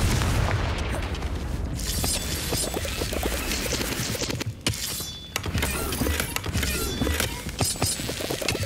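A Confringo blasting spell explodes during combat in Hogwarts Legacy, with booming blasts and crashing impacts in a dense, continuous wash of game noise.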